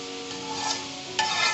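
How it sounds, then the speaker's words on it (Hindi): Vegetables stir-fry with a stock cube for egg fried rice, a close, continuous sizzle with scraping stirs and a sharper burst of crackle near the end. "अब हम इसे मज़ीद फ्राई करेंगे।"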